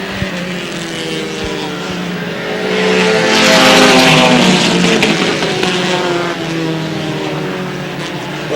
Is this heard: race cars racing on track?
yes